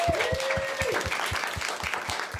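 A live radio showcase audience applauds its performers in a steady, dense wash of clapping, with a few louder individual claps rising out of the crowd for the full stretch.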